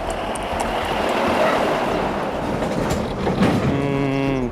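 Heavy construction trucks near the Saemangeum site rumble and rattle over a raised road bump in a rural village, giving a loud, continuous clattering roar with a droning engine tone near the end.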